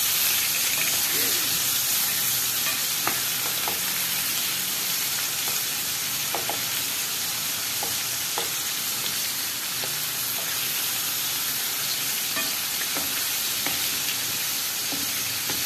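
Lamb liver, kidney and heart fry in a pan with a loud, continuous sizzle and hiss, broken by occasional scraping and clinking as the pieces are stirred and turned.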